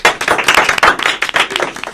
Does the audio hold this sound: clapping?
yes